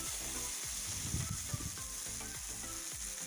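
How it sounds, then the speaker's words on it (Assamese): Tomatoes and green chillies frying in a pan for a homemade matar paneer, a soft, continuous sizzle with occasional scraping and stirring clatter, close but quiet, with no talk. "এইখিনি মই ভালকৈ সিজালৈকে ভাজি ল'ম।"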